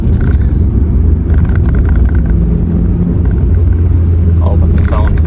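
A Renault Twingo's small engine hums steadily and loudly from inside the cabin while driving, with a constant low rumble throughout.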